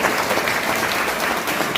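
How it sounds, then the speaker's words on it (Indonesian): A church congregation in Papua claps hands during a Sunday sermon, a thick continuous patter of many hands at steady loudness with no voices on top. "Kita tepuk tangan untuk Injil datang di tanah Papua."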